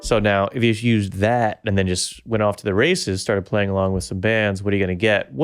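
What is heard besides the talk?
None of the usual background noises is heard.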